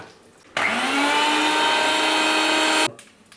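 A blender grinds green chillies, garlic, ginger and cumin into paste, switching on abruptly and whirring steadily at high pitch for about two seconds before cutting off, close and loud.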